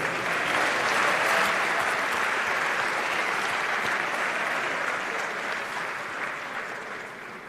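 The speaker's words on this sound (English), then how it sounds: "Another round of applause, please." An audience applauds at the inauguration of a new African Export-Import Bank president, a dense, loud, sustained round of clapping from a large crowd that slowly fades toward the end.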